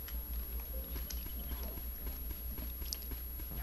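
Rhythmic hoofbeats of a horse running in the game Trove, a steady clip-clop patter over a constant low game hum, with no one talking.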